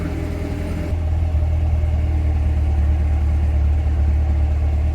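A Chevrolet C8 Corvette engine idles close by, a steady low rumble that steps up slightly in level after the first second and then holds evenly.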